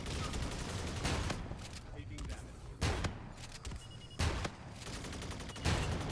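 Gunfire from the Rack-9 with Firebug incendiary rounds in Call of Duty: Infinite Warfare, several sharp bursts of rapid shots at irregular intervals over a continuous game background, close and punchy.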